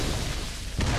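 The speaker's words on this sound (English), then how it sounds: "Where'd that explosion come from?" An explosion in the PS4 game The Order: 1886 lands as a deep, loud boom near the end, rising out of a quieter low rumble, with no voices.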